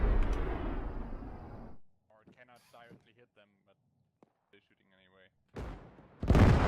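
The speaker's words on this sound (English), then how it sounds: "Missile just hit the fuel dump right in front of us." A missile striking a fuel dump in Arma 3, a heavy rumbling blast that fades into quiet with a voice talking in the gap, then another loud, close explosion bursts at the end.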